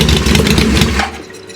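Motorcycle engine on a first bike build being turned over, with oil rushing around inside, giving a loud close rumbling churn that fades after about a second, with no talking.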